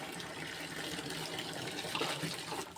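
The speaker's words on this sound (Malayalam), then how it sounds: "ഇത് കുറച്ച് പച്ചവെള്ളം ഒഴിക്കട്ടെ" Plain water is poured onto a potted plant in a steady, soft stream of splashing and trickling that runs for a few seconds. The sound is close and quiet, with no talking.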